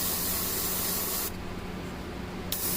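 Airbrush spraying paint onto an Adeptus Mechanicus Kataphron Breachers tabletop miniature, a steady close hiss that cuts off briefly, then gives a short puff at the end.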